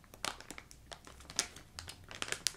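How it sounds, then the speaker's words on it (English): Plastic bag crinkling in sharp, irregular bursts of rustle, close and fairly quiet, with brief pauses between handling movements. "didn't much think about the crinkly sounds until I was halfway through the bag"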